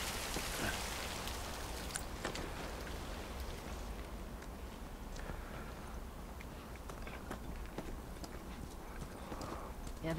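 Faint, steady rain patters throughout a scene in The Last of Us Part 2, with scattered soft knocks and taps under the wash of drops.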